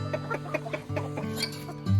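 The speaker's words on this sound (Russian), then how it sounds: "Пока куры набросились на эту воду" Chickens crowd around fresh water on a freezing morning, clucking close by in quick overlapping bursts, with a few louder squawks at the end.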